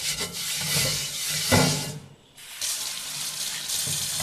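Tap water runs steadily over a dosa tawa iron pan being washed in a sink, with scrubbing and rubbing as the flow shifts and briefly stops before running on again, close and fairly loud with no talking.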